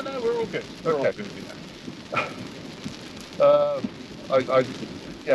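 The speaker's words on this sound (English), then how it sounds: "This is a bit of rain." Heavy rain from a storm drums steadily on a car while it is being driven, a continuous hiss under conversation between the people inside.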